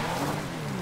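A car in the FiveM driving game runs past with a steady engine drone and faint tire noise, holding at a fairly constant level for under a second with no voices.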